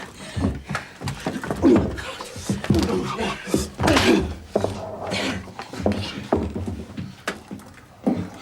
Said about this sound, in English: Break down that door.